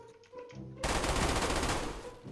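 Automatic gunfire in the survival game DayZ bursts in abruptly after a quiet stretch with faint voices, then a dense, loud rattle of rapid shots sustains to the end.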